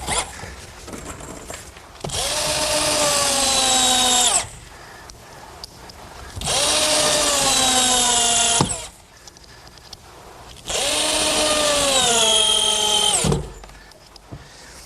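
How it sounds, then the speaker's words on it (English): Galvanized 2.5-inch bugle head screws are driven into boards one after another: three long, rising mechanical whines, each a few seconds, separated by short pauses with faint handling clicks. "what I'm trying to do here is get 3 screws in each board"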